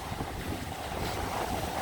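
Strong wind on a UK beach buffets the microphone in a dense, continuous roar, with surf blended underneath and no voices.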